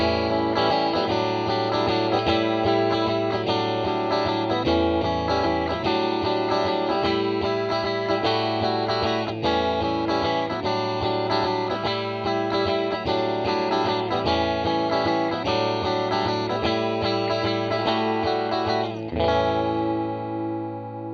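Electric guitar played through a TC Electronic Hall Of Fame reverb pedal set to ambience mode, sustained chords ringing steadily for about twenty seconds with a subtle spacious tail as the playing stops near the end.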